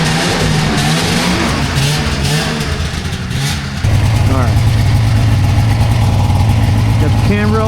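A 1998 Ski-Doo 583 Deluxe snowmobile engine runs nearby, a buzzing two-stroke idle that rises into louder revving partway through, with people talking over it.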